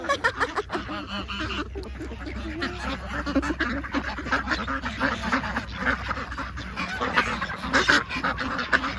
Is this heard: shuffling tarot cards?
no